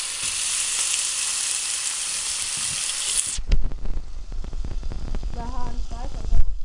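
Bacon sizzles loudly in a frying pan, a dense crackling hiss that then gives way to clatter and handling sounds, with a brief voice near the end.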